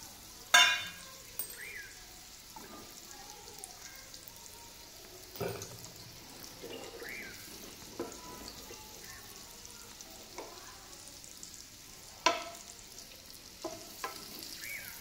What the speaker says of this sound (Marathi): आता आपण मध्यम गॅसवर एका पॅनमध्ये 1/2 चमचा तेल टाकून आपण मगाशी मसाला लावून घेतलेली अंडी थोडीशी परतून घेणार आहोत